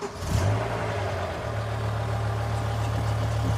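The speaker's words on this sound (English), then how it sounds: "I want you to listen to the engine start up" A BMW M5 E60 with its V10 engine cranks and catches with a brief surge, then settles into a steady, slightly rough idle, close and fairly loud throughout.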